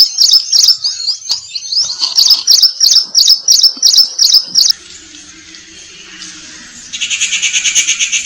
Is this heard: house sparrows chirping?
yes